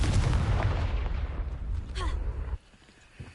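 A Confringo fire spell explodes in the video game Hogwarts Legacy, a loud, rumbling blast that rolls on for over two seconds before cutting off sharply into quieter game ambience.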